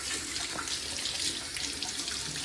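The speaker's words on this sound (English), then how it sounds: "So I rinse it off." Water running steadily from a tap into a sink as hands are rinsed, a continuous close hiss and splash with no talking.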